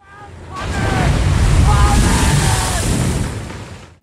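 Storm at sea with big waves and strong wind battering a ship, a dense, loud roar of surf and gusting wind swelling and fading over a few seconds.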